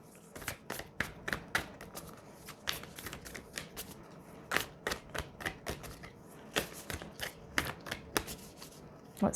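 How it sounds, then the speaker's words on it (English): Moonology oracle cards being shuffled and pulled, a long run of crisp, irregular riffling snaps and flicks up close, a few clustered bursts with short pauses between. "Now, we're going to pull a Moonology card"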